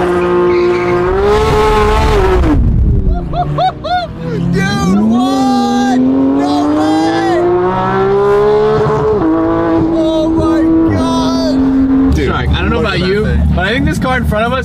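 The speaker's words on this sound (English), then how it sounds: "That's the sound of a real race." A race car engine in a supercar street race revs hard and close, pitch climbing and falling through gear changes with a tire-squeal edge, while a voice talks over it.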